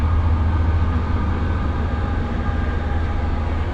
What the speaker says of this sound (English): Must be a freight train.